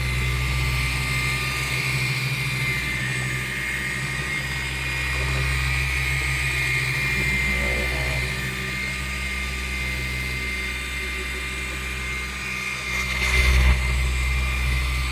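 A machine polisher works polish into car paint, a loud, steady, close motor whine with a low hum holding throughout and briefly rising in pitch and intensity near the end as it speeds up.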